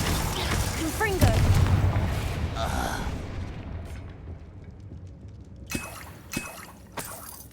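Confringo fire spell blast in Hogwarts Legacy, a loud booming explosion that rumbles and fades over several seconds, followed by a few sharp cracks near the end while a voice speaks.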